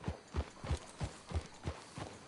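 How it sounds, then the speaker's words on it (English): In Red Dead Redemption 2, a horse's hooves clop in a steady, even trot, about seven close, distinct strikes with no voices. "Get a hold of that horse, will you?"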